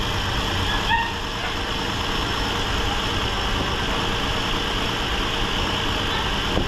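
A car engine idles steadily during an overheating diagnosis, either a Nissan with a TD27 diesel or a Hyundai Santa Fe, a continuous close rumble with a faint higher whine and no voices.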